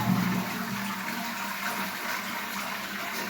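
A household toilet tank flushes after a chain repair, rushing water draining steadily and loud throughout, close by with no talking.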